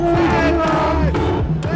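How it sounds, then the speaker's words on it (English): A large crowd of protesters, including mothers, social workers and drug users, chants a slogan in unison while marching in Canada. The chant is loud and close, with many voices overlapping. "Mothers, social workers, and drug users marching to the chant"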